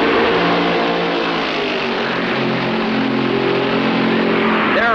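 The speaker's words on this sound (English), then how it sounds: "the safety car heads for the pits, and Fred Lorenzen puts his foot down." 1965 NASCAR stock cars racing in the Darlington Southern 500: a loud, steady engine roar from a pack of cars at full throttle, continuous throughout with no pauses.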